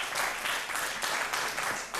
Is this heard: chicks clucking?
no